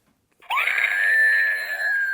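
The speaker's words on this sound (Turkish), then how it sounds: "Çığlık atan salatalık kim yaptı?" After a brief silence, a squeezed screaming-cucumber novelty toy lets out a loud, shrill, sustained scream that holds steady to the end.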